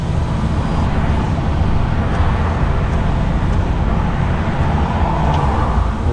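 A loaded truck descends a downhill ramp with its retarder braking, giving a dense, loud, continuous rumble mixed with road noise and heard from close by.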